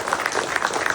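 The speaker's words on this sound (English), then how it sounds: "How about a round of applause for that?" An audience at a retirement ceremony claps together in a brief, steady burst of applause, dense and moderately loud throughout.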